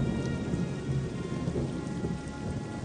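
Steady heavy rain with low rolling thunder, a dense continuous wash of falling water and rumble, fairly loud and unbroken throughout with no voices.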